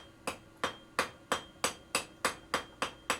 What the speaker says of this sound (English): Rivet the end over. Not too hard, because you will seize the tongs up.